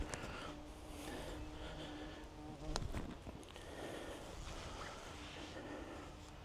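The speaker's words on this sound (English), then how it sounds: "And the bees around here are big." Large bees buzz around bluebells outdoors, a steady, moderately close drone that continues throughout with a brief louder pass partway through.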